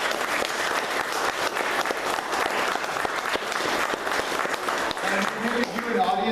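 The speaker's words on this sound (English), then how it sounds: "please, if we could, a round of applause for our panel members" Audience at a panel event applauding the panel members, a dense, steady wash of clapping lasting the whole stretch, with a voice starting to speak as it tapers at the end.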